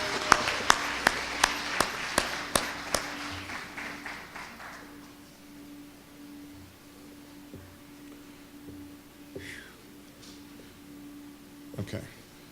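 Audience applause at a junior and senior division MLK award ceremony, a steady burst of clapping that fades out after about five seconds, leaving a quiet room with a few faint taps and a brief murmur near the end.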